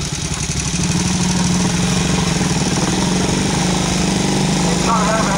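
A vintage Matchless motorcycle with an overhead-valve engine running at a classic vehicle parade, a loud steady close throb with people talking over it throughout.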